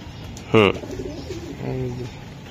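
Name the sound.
racing pigeon cooing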